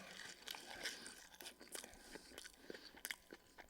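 Crunchy cheese-free fries topped with ketchup and mayonnaise being bitten and chewed up close, a run of crisp, irregular crunches and snaps with no talking.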